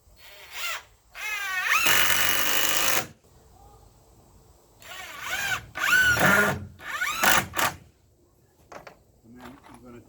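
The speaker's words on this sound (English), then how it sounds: "I'm going to put 3 screws in here into the 4x4." A power drill drives screws into a 4x4 post while a poultry waterer is being built, with several loud whirring bursts of varying length separated by quiet gaps, close by.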